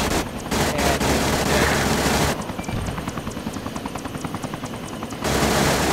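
A military helicopter in ARMA 3: a loud, close rotor roar whose steady thudding blade chop becomes clearly rhythmic in the middle stretch before the roar swells again.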